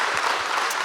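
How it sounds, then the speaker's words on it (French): Dense audience applause fills a hall at a public debate on biodiversity and wildlife, loud and close, a brief steady burst of many hands clapping. "On vous applaudit dans la salle."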